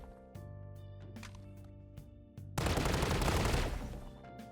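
Gunfire in the Strinova shooter game: a few sharp single shots first, then a loud, dense burst of rapid automatic fire that fades out, with tonal game music underneath.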